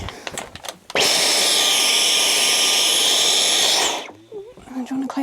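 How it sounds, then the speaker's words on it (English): A household vacuum cleaner switches on after a second and runs with a loud, steady whine and roar for about three seconds, then cuts off, leaving quieter room sounds while tidying up packing peanuts. "Do you want a close-up of me vacuuming?"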